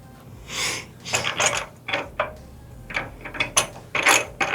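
A hand ratchet clicks loudly in repeated quick bursts while tightening a bolt and nut on a 57 Chevy, close up with uneven rhythm and short pauses between swings; no talk.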